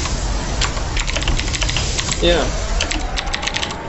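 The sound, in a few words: typing on a computer keyboard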